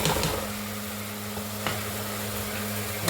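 Ground spice paste and sambar powder stirred in a hot pan of oil while cooking lentil rice, a soft steady sizzle with a few faint scraping touches of the spoon.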